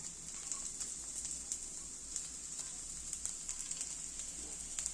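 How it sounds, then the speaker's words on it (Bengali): Chopped garlic and ginger frying in hot oil, a steady bright sizzle with small crackling pops, moderately quiet and continuous with no talking. "তেলটা গরম হয়ে গেছে, এবার এতে দিয়ে দেবো রসুন কুচিটা"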